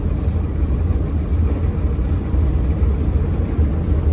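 A 40-foot motorhome cruising at highway speed with a Jeep towed behind, giving a steady, loud low engine and road rumble that holds constant throughout with no talking.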